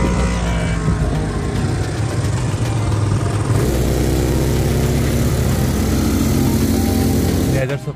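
A quad bike engine running in the Dubai desert, a loud, continuous rough drone with a shift in tone partway through and a sudden cutoff at the end.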